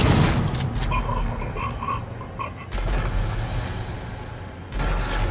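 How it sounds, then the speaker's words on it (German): Three heavy gunshots ring out in Alien: Isolation, a few seconds apart, each followed by a long rumbling tail over dark, humming game ambience. "Die halten zwei Schüsse aus."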